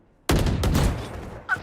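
Gunfire in a shooter video game: a sudden loud shot with echoing tail, a second blast right after, then a smaller crack near the end, close and alone without talk.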